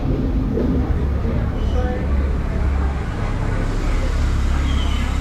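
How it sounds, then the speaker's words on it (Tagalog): Road traffic with many vehicles passing, a continuous loud rumble of cars and engines close by, low droning hum steady throughout, with a busy roadside feel. "daming sasakyan"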